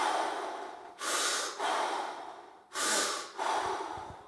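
Two long, airy breaths drawn in sharply through the nose, each rising and fading over about a second, separated by quieter breathing, close to the microphone with no talking.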